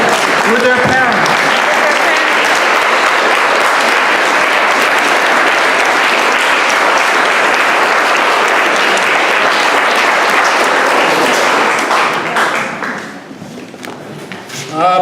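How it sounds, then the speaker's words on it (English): Sustained, loud audience applause at a Sojourner Truth memorial celebration fills the room for about twelve seconds, dense clapping that tapers off near the end. "Another round of applause as they stand up with their parents."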